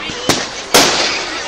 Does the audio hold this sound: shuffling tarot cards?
no